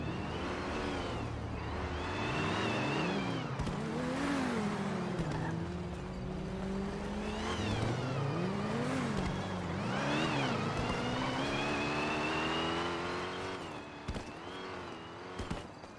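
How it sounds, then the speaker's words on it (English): A car drifting nearby, its engine revving up and down in rising and falling sweeps over a steady rumble, continuous and loud for the whole stretch. "That car is drifting?"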